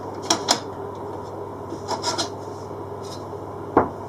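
A hacksaw cuts a piece to length during a narrowboat fit-out, giving a few short rasping strokes in two quick pairs, then a softer stroke and one sharp scrape near the end, close by, with long quiet gaps between.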